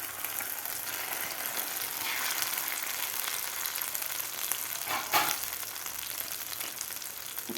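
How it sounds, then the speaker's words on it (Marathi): Masala sizzling in the oil left after frying paneer, a steady close hiss of sautéing with a brief louder scrape or stir midway, no voices. "त्याच तेलामध्ये आपल्याला आता हा मसाला घालायचा आहे"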